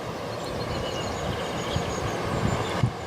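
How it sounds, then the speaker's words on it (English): A train passes alongside on a railway line, giving a steady, close rumble and rattle of wheels and carriages that fills the whole stretch without speech. "Our train should be coming alongside on this line."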